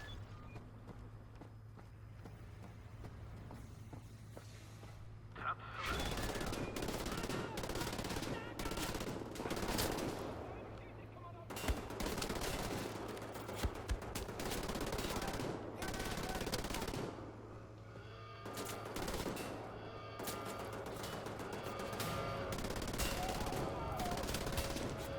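Mounted turret machine gun in Wolfenstein: The New Order firing in long, loud sustained bursts with brief pauses, preceded by several seconds of quieter ambience and a low hum.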